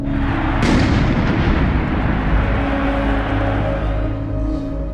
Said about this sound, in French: Et là, il y a une deuxième explosion.